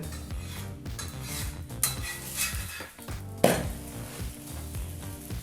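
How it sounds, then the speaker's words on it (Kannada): Obbattu sweet flatbread is flipped and cooks on a hot pan, a continuous sizzle with a few utensil clinks, heard under steady background music. "ಮತ್ತೊಂದು ಕಡೆನೂ ಸಹ ತಿರುಗಿಸಿ ಬೇಯಿಸ್ಕೋಬೇಕಾಗತ್ತೆ."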